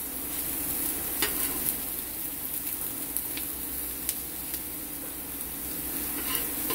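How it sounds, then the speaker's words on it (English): Curry and aromatics, including garlic, pimento and pepper, sizzle steadily in a pot while being stirred, with a constant close frying hiss and occasional light scrapes and pops. "So this is the curry now going in there. Now we just do it. With the aromatics."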